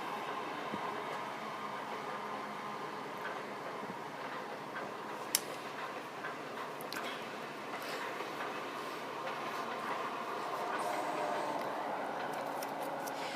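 A train in the Trainz Simulator 2 video game departs with a continuous rumbling rail-car roll and faint clickety-clack, moderately quiet and steady, with no talk.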